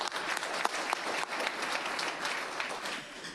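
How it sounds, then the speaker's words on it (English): A crowd at a school board meeting applauds, a steady wash of many hands clapping that carries on for a few seconds before tapering slightly. "Clap it up for Chauncey, please."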